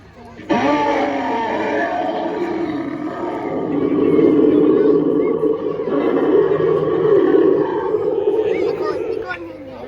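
An animatronic Spinosaurus at an indoor Jurassic dinosaur exhibit in London lets out a long, loud, rumbling roar that swells and holds for several seconds, over a background of crowd noise.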